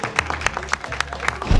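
A small group applauds a worker arriving for his day on the job, with distinct, fairly close claps in an uneven rhythm and a low background hum.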